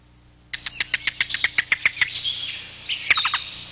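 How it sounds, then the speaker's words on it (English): A yellow-billed cuckoo gives a loud, clattering call, a rapid series of about a dozen sharp knocking notes that run together, then a brief pause and a shorter burst, heard close and alone over quiet background. "the yellow-billed cuckoo would often go undetected but for its loud, clattering calls"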